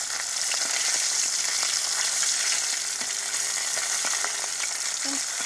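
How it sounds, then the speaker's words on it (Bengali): Fish frying in oil on a clay stove gives a loud, continuous, close crackling sizzle that stays steady throughout, with faint clicks and pops; no speech. "আমাদের উনুনে রান্না হচ্ছে"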